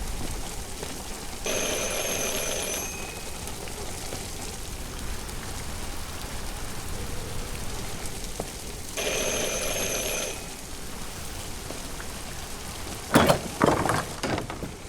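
A doorbell rings twice, with about seven seconds between rings, in Detroit: Become Human over steady rain, each ring a bright tonal chime lasting over a second, followed by a few sharp knocks or clatters near the end.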